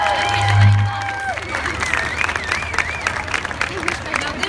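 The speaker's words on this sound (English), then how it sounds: "Big round of applause for Tommy Upchurch" Audience applause and cheering for Tommy Upchurch at an Autism Speaks walk event, a burst of crowd clapping with babble and voices mixed throughout.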